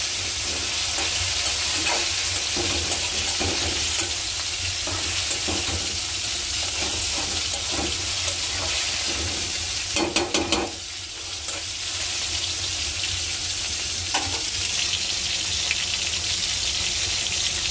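Spice paste frying in a pan on a gas stove, a loud, continuous close sizzle with repeated scraping stirs and a brief clatter partway through.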